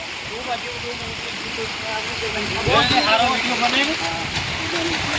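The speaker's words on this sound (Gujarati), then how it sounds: "રોડ ઉપરથી પાણી જાય છે અને હજી તો સલ્લી જેવી બહુ વધારે જાય છે" Floodwater rushes across a road in Surendranagar, Saurashtra, a steady broadband roar of flowing water heard up close, with people talking over it.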